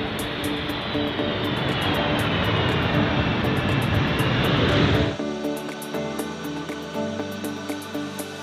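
A U.S. Air Force military transport aircraft used for an airlift to Ukraine roars loudly and steadily with engine noise for about five seconds, then the sound drops abruptly to a quieter, thinner hum.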